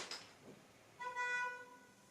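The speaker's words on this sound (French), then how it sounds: "Qu'est-ce qui klaxonne?" A car horn honks from somewhere nearby indoors, a short sustained tonal blast after a brief rustle, fairly faint and heard alone without talk.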